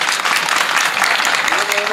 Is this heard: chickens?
no